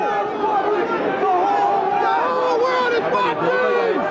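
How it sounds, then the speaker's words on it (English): A protest crowd at an Occupy Wall Street mass-arrest scene chants in unison, a loud continuous wall of voices with rising and falling contours, close and steady, with no break. "the crowd is chanting, the whole world is watching, the whole world is watching"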